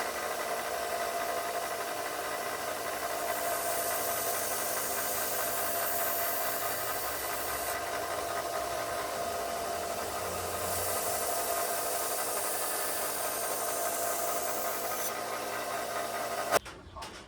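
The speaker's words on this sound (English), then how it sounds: "Now we're going to take it over and give it a new edge on my sander." A classic Buck knife blade is ground to a new edge on a sander, with a continuous close, even grinding whir that swells and eases in two long passes before a brief clack at the end.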